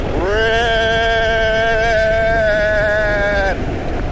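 A scooter engine revs hard and steadily for about three seconds, close and loud, its rising whine holding high before cutting back, with wind buffeting the microphone.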